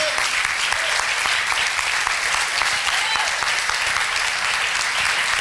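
A church congregation at a Christian revival congress applauds the Lord, a dense, sustained roar of many hands clapping with crowd noise throughout, steady and loud from start to finish.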